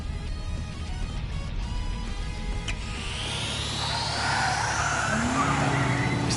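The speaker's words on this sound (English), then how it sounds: "Is that a turbocharger?" A turbocharged vehicle skids in the Trails Through Daybreak video game, with a rising engine roar and tire squeal building toward the end over a steady background rumble, loud and close.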